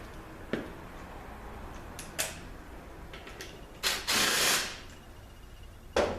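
A ratchet works a 10 millimeter bolt out of the valve body area of an A540E automatic transmission. Scattered close clicks and metallic taps lead to a longer burst of ratcheting about midway, then a final sharp click, with no speech.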